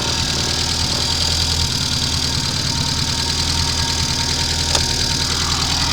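A Reliant 850cc engine fitted in a 1938 Austin Seven special runs steadily at idle, a loud, close, continuous rumble with an even knocking pulse and no talking.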